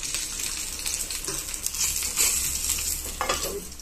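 Hilsa paturi, fish wrapped in lotus leaves, cooks in a covered pan with a steady, close hiss and crackle of sizzling that swells briefly near the end.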